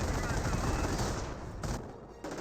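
A .30 cal machine gun fires from a garrison in the Company of Heroes video game, loud sustained rattling bursts with distant battle noise, while a commentator talks over it.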